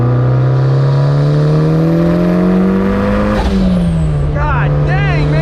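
Built turbocharged Mazda Miata engine making around 400 hp, pulling hard under acceleration with a loud, steady rising drone, then a brief dip near the middle before continuing; faint voices underneath.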